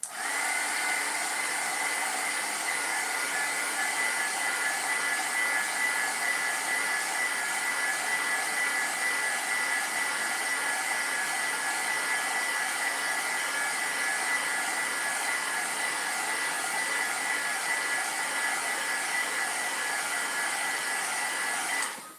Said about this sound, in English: I'm going to take a little bit of a heat gun to this